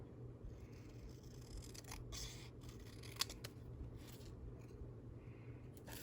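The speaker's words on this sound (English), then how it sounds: "I'm gonna cut again on the line." Scissors snip paper along a drawn line during a papercraft stamping project, a few quiet cuts and one sharper click over a soft steady background hum.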